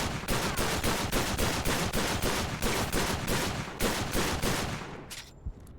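M9 handgun gunfire in the video game Call of Duty: Future Warfare, about a dozen loud, close shots in quick regular succession, then stopping abruptly with a brief faint tail.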